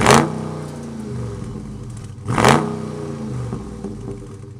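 A Dodge Charger Scatpack's V8 exhaust barks through two sharp throttle blips, each a loud rising roar that falls back to a deep, burbling idle between them.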